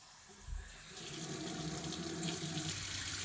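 A tap runs steadily into a sink while doll parts from a Volks Dream doll are rinsed, the flow close and continuous, rising slightly after a brief knock near the start.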